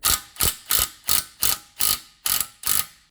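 A ratchet socket wrench clicks in eight steady, evenly spaced strokes, close and loud, while working on a stuck ball joint bolt of a 2006 Subaru Impreza WRX.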